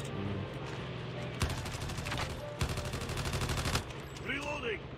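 A manually operated gun in Call of Duty Mobile fires in several rapid bursts, each a dense clatter of shots, with a voice speaking quietly in the background between them.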